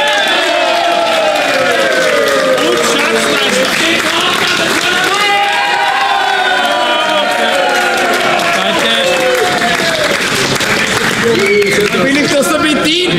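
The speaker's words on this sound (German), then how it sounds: "ich will jetzt jedes Mal einen großen Applaus hören" A crowd at a small-field football tournament in a Vienna stadium claps and cheers for the grill master, with sustained loud applause, whoops and shouting voices mixed throughout.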